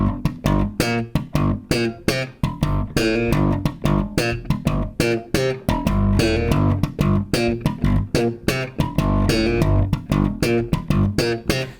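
Bass guitar plays a groove from a song, a fast run of plucked notes with a quick sixteenth-note ghost note leading into the next phrase, clear and solo.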